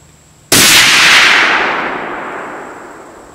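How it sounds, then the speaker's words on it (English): A single loud rifle shot from a Christensen Arms .300 Win Mag, a sharp close crack followed by a long decaying echo over roughly three seconds. "So let's go a three round group, top left"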